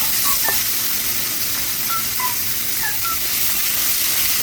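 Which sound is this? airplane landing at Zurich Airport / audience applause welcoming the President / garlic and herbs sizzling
garlic and herbs sizzling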